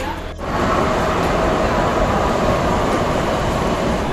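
A metro train at a station in Kolkata gives a loud, continuous rumbling roar that swells in after a brief lull and holds steady throughout.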